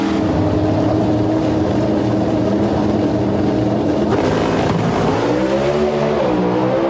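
Loud roaring Pro Stock drag racing engines scream down the track at the 2003 NHRA Super Nationals, a sustained close blast with a rising then falling pitch as one car accelerates past.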